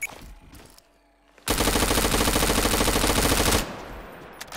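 Gunshots in Garry's Mod: after a quiet pause, a loud, rapid automatic burst hammers for about two seconds with an even, fast rhythm, then cuts off abruptly.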